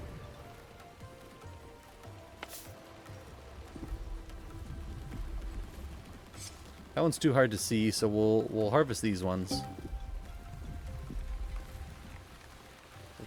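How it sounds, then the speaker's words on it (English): Torrential rain in the video game The Wandering Village patters steadily in the background while a person talks, with a brief louder melodic burst in the middle. "we're about to go through torrential downpour"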